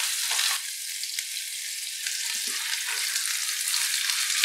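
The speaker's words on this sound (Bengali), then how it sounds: "আলুটা বেশ লালচে করে ভেজে নেব।" Potatoes for a thin rohu fish curry frying in a pan, giving a steady, loud broadband sizzle that holds throughout with a few soft scraping stirs in the middle.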